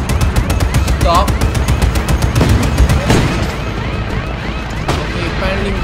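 Rapid bursts of automatic gunfire from the player's weapon in the video game Just Cause 3, loud and close, with sharp repeated shots and explosive hits while someone talks over the action.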